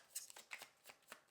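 A deck of cards is shuffled for a tarot reading, giving a quick series of soft, close riffling flicks and taps with no talking.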